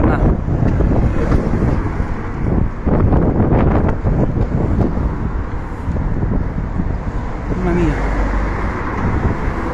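Strong wind from a tornado buffets the microphone in loud, gusty rumbles throughout, rising and falling unevenly, in an industrial zone of Brindisi.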